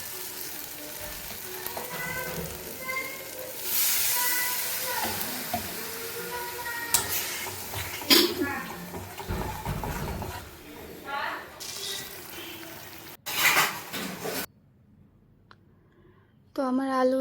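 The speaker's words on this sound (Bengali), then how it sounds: "এর ভিতরে একটু আলু দিয়ে আবার একটু জল দিয়ে আবার কিছুক্ষণ আমি মশলাটা কষিয়ে নেব" Potatoes, water and a spice paste sizzle and hiss in a pan while being stirred, with scraping and clattering throughout and a person talking over it, then a brief quieter pause near the end.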